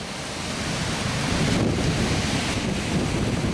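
Sea waves roll onto a shore driven by wind blowing up a channel, a continuous loud wash of surf with heavy wind buffeting the microphone and no voices.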